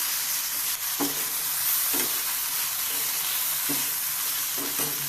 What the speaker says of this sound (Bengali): সুন্দরভাবে আগে ভেজে নিচ্ছি নুডলসটা